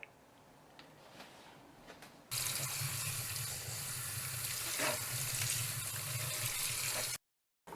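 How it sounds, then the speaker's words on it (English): Cold tap water gushes over rinsed vermicelli noodles, a loud, steady splashing stream that starts suddenly after a quiet kitchen moment and runs for several seconds before cutting off. "I am going to clean the vermicelli under cold running water."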